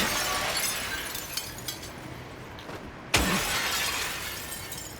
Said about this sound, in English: never smashed these windows yet